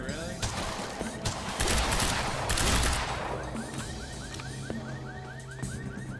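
Rapid bursts of gunfire crack and echo in a Quantum Break firefight, with dense overlapping shots that ease off into a run of repeated chirping tones and a few isolated reports.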